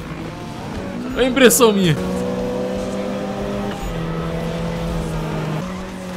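A BMW M3 GTR engine in Need for Speed Underground 3, revving hard with rising and falling whines and gear changes, then settling into a steady drone, with someone talking over it.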